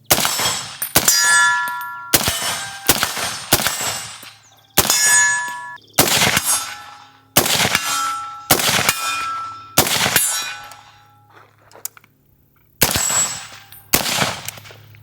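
Rapid rifle fire from a PSA JAKL rings off steel targets, a dozen or so sharp shots with bright metallic clangs, some in quick pairs and bursts, each leaving a short ringing tail outdoors.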